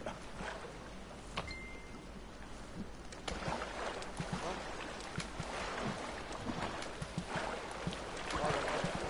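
A boat moves across the water in the survival game The Forest, a steady wash of lapping and splashing with some wind noise, one sharp knock early on, and the water growing a little louder toward the end.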